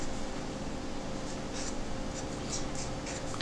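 A blue pen writing in a business planner, a soft continuous scratching with short bursts of stroke sounds over a steady background hiss, close and quiet.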